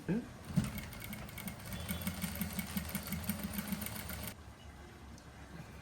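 Sewing machine stitching the neckline seam of a shalwar outfit, a steady fast-running mechanical hum for about four seconds, then stopping, with low background noise.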